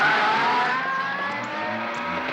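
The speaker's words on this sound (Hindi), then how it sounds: "तू रिवर्स में गाड़ी क्यों चला रहा है?" A car engine runs steadily while the vehicle drives in reverse on a blocked road, a continuous close hum with no voices.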